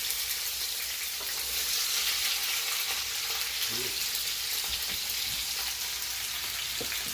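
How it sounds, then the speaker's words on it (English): Potatoes sizzle and crackle steadily in a hot frying pan, a continuous bright hiss with occasional pops and no talking. "So I've added in my potatoes to my frying pan."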